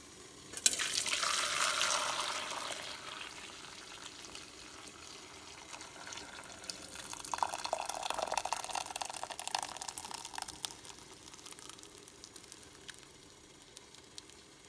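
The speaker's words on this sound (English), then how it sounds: "Just wait for it all to drip out." Liquid from cooked tapioca draining through a kitchen strainer, a steady soft patter and trickle like running water that swells, eases off, then picks up again before tapering away, with no talking.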